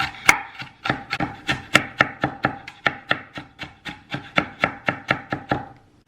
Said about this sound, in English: you're gonna wanna chop this onion up really fine